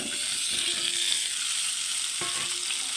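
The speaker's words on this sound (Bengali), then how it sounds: "তেলের মধ্যেই দিয়ে দিচ্ছি আলু।" Potatoes frying in hot oil in a home kitchen, giving a steady, dense sizzle that stays loud and even throughout, with a brief soft stir near the end.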